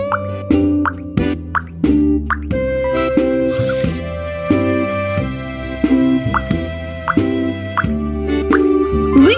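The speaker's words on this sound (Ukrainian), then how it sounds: "Тепер перетягни піпетку на напувалки, щоб наповнити їх водою." Bright, cartoonish plops and drips from a children's ant farm game repeat in quick rhythm as a pipette fills the water drinkers, set over steady background music.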